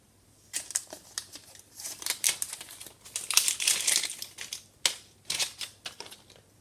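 Thin plastic wrapping is ripped and crinkled off a simple power adapter in short bursts of rustling and tearing, close and fairly loud, with no talking.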